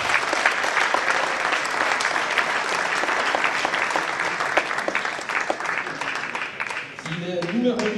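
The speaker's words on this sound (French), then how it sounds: "Merci d'applaudir Lubomir Jean-Caric." Dense, steady applause fills a hall at a table tennis team match between Jura Morez and GV Hennebont during player introductions; the clapping continues throughout and eases slightly near the end, where a voice comes in.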